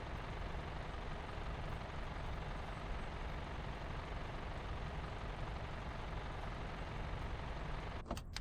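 A tow truck's engine in the video game Car Dealer Simulator drones steadily as a dense, unbroken rumble, then gives a short hiss and clunk right at the end, with no one speaking.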